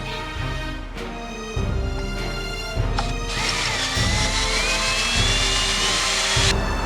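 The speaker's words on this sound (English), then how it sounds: "So what I decided to do instead was go for it and drill the holes, drill the bolts out." A power drill bores out bolts on a boat under rebuild, its high whining motor running steadily throughout with bursts of grinding and clattering as the bit bites into metal, loud and close with no talk.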